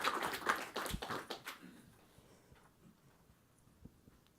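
A small conference audience claps for a speaker, a burst of scattered, uneven hand claps that quickly thins to a few isolated taps and fades out.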